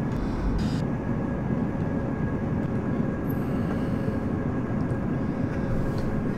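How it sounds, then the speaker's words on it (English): Toliss A319 airliner in the X-Plane flight simulator deploying its speed brakes, heard as a steady, loud broadband rumble and airflow roar that runs continuously without breaks. "Speed brake sound."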